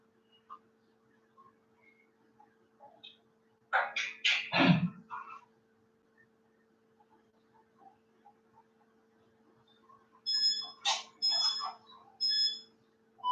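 An electronic timer signals a one-minute MMA training round with short bursts of beeps, one cluster early on and a second series of repeated tones near the end, separated by near silence.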